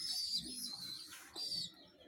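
A baby bird chirps in thin, high, repeated calls while being hand-fed through a tube attached to a squeeze bottle; the chirps are close but quiet, with no talking.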